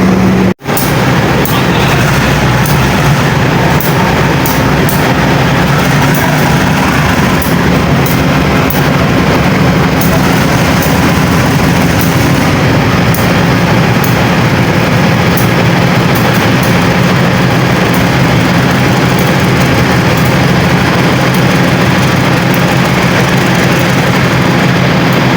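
A diesel locomotive idles with a steady, heavy low rumble during shunting at Bandung station, continuous and close, with a sharp knock right at the start and faint clatter in the background.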